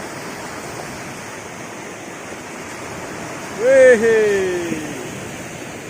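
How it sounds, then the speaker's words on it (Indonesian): Waves on a beach in the JLS area of Tulungagung, East Java, give a steady broad wash of surf throughout, with a short exclamation from a voice partway through. "Kita sekarang lagi di pantai di daerah JLS"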